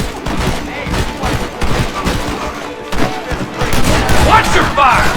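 Sustained gunfire in Red Dead Redemption, a chaotic fusillade of overlapping shots with heavy thuds, close and loud, as voices shout over the shooting.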